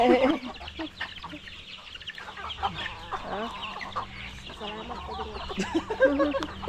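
Chickens cluck and squawk nearby in scattered bursts over low background noise and faint voices.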